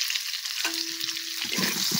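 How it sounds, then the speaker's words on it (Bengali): Salted potatoes being fried for a meat dish give a steady, fairly quiet sizzle in the pan, with a brief stir near the end and no talk. "এদিকে আলু ভাজা হচ্ছে"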